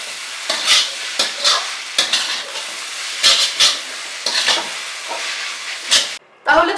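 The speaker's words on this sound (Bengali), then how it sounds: "এবারে কিন্তু আমি এটাকে 4 মিনিট মতো ফ্রাই করব হাই ফ্লেমে। আর সমানে কিন্তু এটাকে আমাদের নাড়তে হবে।" Vegetables and masala for veg Hakka chowmein stir-fried on high flame, a steady loud sizzle broken by repeated scraping stirs of a spatula in the pan, close up with no talking.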